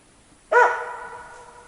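A hunting dog out in snowy woods barks at a squirrel or marten up a tree: one sharp, fairly close bark with a short ringing tail, alone against quiet forest.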